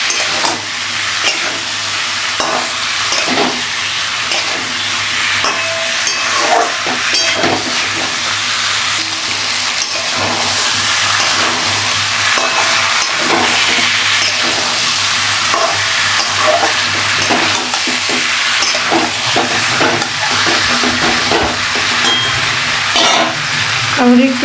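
Papaya and potato curry sizzles steadily in a hot pan while a spoon stirs and scrapes through it, a loud continuous frying hiss broken by repeated clattering stir strokes throughout.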